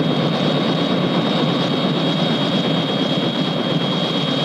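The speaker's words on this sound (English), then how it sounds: "isn't that your helicopter over there?" Continuous loud engine roar of a helicopter, a steady dense drone with no break and no talk.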